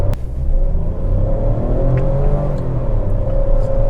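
An MG Astor car engine hums and rises in pitch as the vehicle gathers speed toward 60 km/h, with steady road rumble underneath and no voices.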